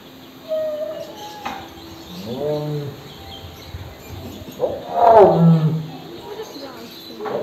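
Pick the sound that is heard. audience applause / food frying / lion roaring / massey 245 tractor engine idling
lion roaring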